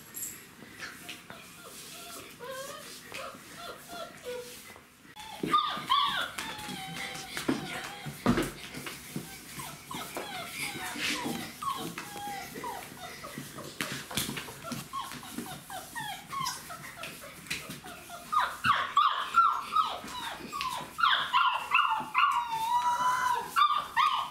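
34-day-old puppies whimpering and yipping in repeated high-pitched bursts, close by, growing busier and louder toward the end.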